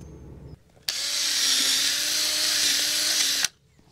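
A power drill with a concrete bit whines steadily for about three seconds, starting and stopping abruptly, with a grinding edge as it bores into the ground.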